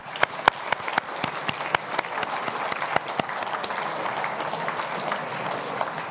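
Audience at the Muslim News Awards gala dinner claps for event volunteers, sharp individual claps at first swelling into sustained, dense applause filling the hall.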